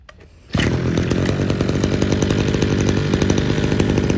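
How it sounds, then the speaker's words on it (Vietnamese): Mitsubishi TL23 grass cutter engine, a used Japanese unit, catching after a brief quiet start and then running at a loud, steady, buzzing idle with a fast regular firing rhythm, close up and alone. "bây giờ thì em sẽ test nổ cho các bác nghe qua tiếng máy luôn này"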